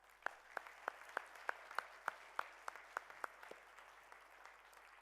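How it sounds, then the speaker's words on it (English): Audience applause at a national parks wildlife awards ceremony: steady, moderately quiet clapping from a crowd, with a regular series of sharper individual claps standing out near the front before fading back into the wash. "Another big round of applause, ladies and gentlemen."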